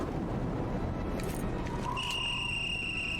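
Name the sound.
whistle in the video game Call of Cthulhu Dark Corners of the Earth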